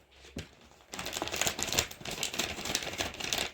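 Scissors slicing open a plastic bag of volcano plaster from an erupting volcano science kit: a brief snip, then a steady run of close crinkling, rattling plastic cuts for about three seconds, with no talking.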